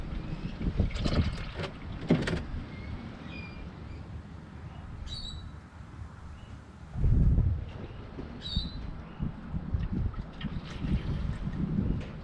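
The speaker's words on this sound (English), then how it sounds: "It's a bit windy today" Gusty wind buffets the microphone outdoors during a Toyota Camry oil change, coming in loud rumbling bursts with quieter stretches between, and a strong swell about midway.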